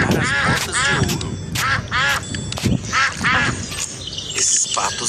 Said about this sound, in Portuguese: E lá vem os patos.